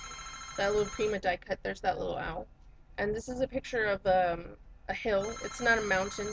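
A telephone rings in bursts beneath a person's continuous nearby talking, the ring fairly loud and overlapping the speech.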